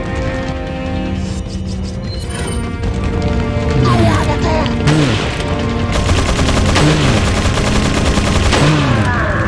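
Rapid bursts of gunfire in Resident Evil 4 Separate Ways during the Krauser and Saddler boss battle, loud and dense, with crashing impacts and occasional voices underneath.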